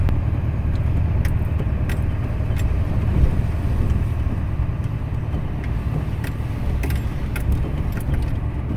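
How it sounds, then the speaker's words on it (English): A car drives steadily along a road through Montana woodland, its low engine and tyre rumble continuous and close throughout, with faint rattles and clinks inside the cabin. "we'll drive on out here and see what we see"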